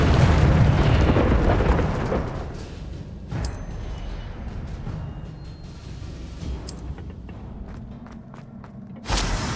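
Incendio fire spell cast in Hogwarts Legacy, a loud, dense burst of roaring flame that fades into rumbling game ambience, with sharp bright zaps and thuds breaking through later.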